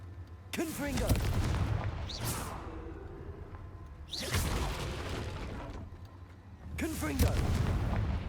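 Confringo fire spell blasts in the Hogwarts Legacy video game: three loud, whooshing bursts with a bright crackling attack, spaced a few seconds apart over a steady game background.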